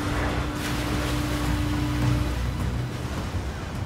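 Ocean surf and breaking waves at sea around a commercial fishing boat, a steady loud wash of water with low rumbling churn and a swell peaking briefly midway, no voices.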